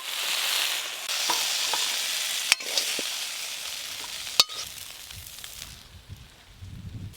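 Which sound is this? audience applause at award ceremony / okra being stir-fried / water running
okra being stir-fried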